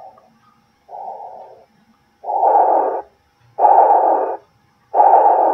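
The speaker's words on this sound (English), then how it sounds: "So that's the heartbeat." Soft, muffled whooshing heartbeat pulses from a Cloud b Sleep Sheep plush toy, four evenly spaced throbs about 1.3 seconds apart, growing louder after the first, close to the microphone over a silent background.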